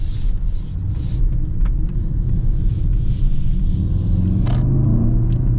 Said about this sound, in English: we'll get another little acceleration, but this thing's smooth